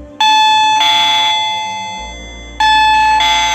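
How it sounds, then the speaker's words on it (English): A wireless doorbell chime rings loudly and up close as the button contacts are shorted, playing a clear electronic tone pattern that repeats in two bursts with a steady hum between them. "the bell is ringing."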